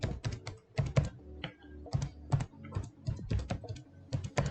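Fingers tap a computer keyboard while entering a Microsoft ID, giving clustered, uneven keystrokes in quick runs with short pauses, close and clear with no talk.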